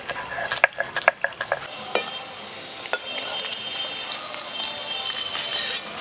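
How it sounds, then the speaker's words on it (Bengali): Paneer cubes frying lightly in hot oil give a bright, steady sizzle, with a few sharp stirring clatters early on and no voices. "পনিরগুলো আমি হালকা করে ভেজে নেব।"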